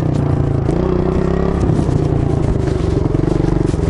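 Motorcycle ridden close by, its engine note rising and falling with uneven revving, along with clattering and scraping from the bike.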